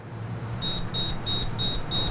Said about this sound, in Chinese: 竟然也出现和真钻石一样的哔哔声